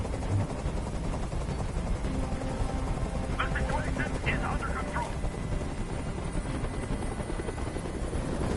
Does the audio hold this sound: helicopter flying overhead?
yes